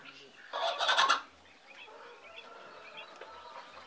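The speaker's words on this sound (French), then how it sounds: "c'est des oiseaux" Poultry on a farm raised for organic eggs give a short burst of clucking and squawking, fairly close, then settle into faint scattered clucks over quiet background.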